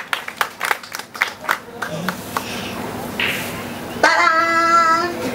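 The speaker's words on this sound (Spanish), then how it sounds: "fuerte el aplauso para mi amigo" A group claps for a child at a children's entertainment show, with irregular bursts of claps early on, then scattered sounds and a voice speaking over the end.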